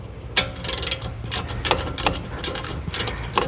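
Rear brake caliper bracket bolts on a 3.0T car being tightened by hand, a rapid clicking ratchet in short bursts, close and fairly loud, with quiet pauses between runs of clicks.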